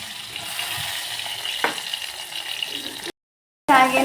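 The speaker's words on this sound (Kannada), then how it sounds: "ಈಗ ಸಾಸಿವೆ ಚಟಾಪಟ ಅಂತ ಇದೆ." Mustard seeds spluttering in hot oil for a fish curry, a steady close crackle and sizzle that cuts out briefly before a louder burst of popping.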